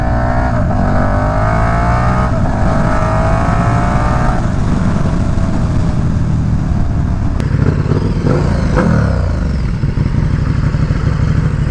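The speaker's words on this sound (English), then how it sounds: "at least you can hear the sound of the engine now with the muffler delete" A KTM Super Duke motorcycle with its muffler deleted idles and revs loudly up close, harsh throaty blips rising and falling, then settling back into a rough, uneven rumble.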